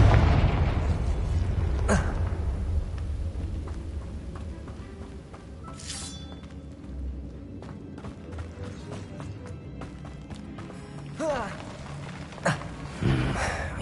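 Confringo spell explosion in Hogwarts Legacy, a booming blast that opens the stretch and rolls off, then scattered thumps and pops amid a low ambient bed, with a voice speaking intermittently.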